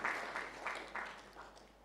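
An audience at a student orientation for fresh university students claps, a faint distant patter of applause fading over two seconds.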